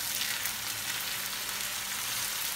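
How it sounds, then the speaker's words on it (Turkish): Foxtail greens sautéing in a pan for a Turkish greens dish with egg to be added, giving a steady, dense sizzle that stays even and close throughout with no voices. "Güzelce kavuracağız"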